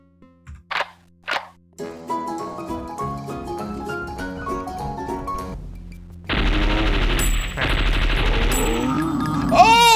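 Retro Doom-style shooter gunfire: a couple of sharp isolated shots, then game music under dense, loud bursts of repeated firing and booming impacts, close and punchy.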